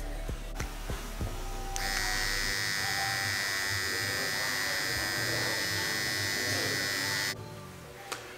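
Suaperne barber trimmers switched on after a few clicks, a steady high-pitched electric buzz held close for several seconds before cutting off.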